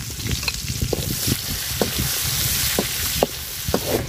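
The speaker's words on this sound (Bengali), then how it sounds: "মাছ ভাজার তেলে পেঁয়াজ কুচি দিয়ে দিলাম" Chopped onions fry in oil left over from frying fish. A steady close sizzle runs throughout, with irregular scraping and tapping from stirring.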